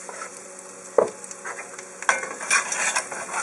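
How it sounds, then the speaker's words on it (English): Garlic and shallot sizzle as they fry in a pot for chicken noodle soup, with a spoon stirring and scraping, making irregular clinks and scrapes over the continuous frying crackle, close and fairly loud. "Just kind of stir it up."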